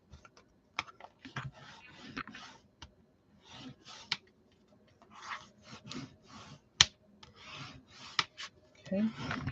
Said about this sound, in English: we're just gonna rub this down a little bit, and then we're gonna go back in here and burnish it